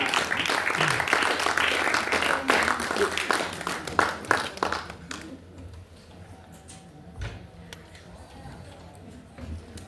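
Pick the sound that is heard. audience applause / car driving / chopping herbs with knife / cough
audience applause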